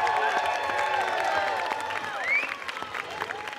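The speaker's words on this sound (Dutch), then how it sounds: "allersympathiekste applaus voor de gasten van de Lora" An indoor festive crowd at a 50th anniversary celebration applauds guest performers, with dense sustained clapping and some cheering, loud and close, fading slightly toward the end.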